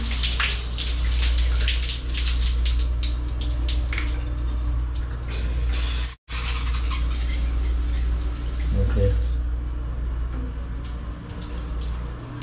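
A hotel bathroom shower at a Miami Beach hotel runs steadily, a loud, continuous rush of spraying water close by, briefly cut off and then resuming.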